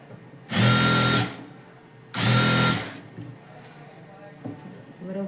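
A sewing machine stitches a blouse seam in two loud motorized bursts of under a second each, separated by a pause and then followed by quiet handling noises and a faint voice.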